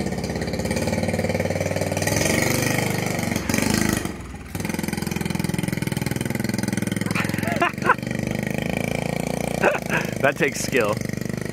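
A 1969 Honda Mini Trail engine idles steadily after a mixture adjustment, a constant buzzing putter that runs the whole time with a brief dip in the middle, while people talk over it.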